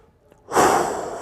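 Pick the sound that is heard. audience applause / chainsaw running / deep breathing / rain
deep breathing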